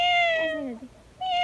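A voice imitates a cat's meow, a single drawn-out mew that dips and rises, fairly close and clear with no talking.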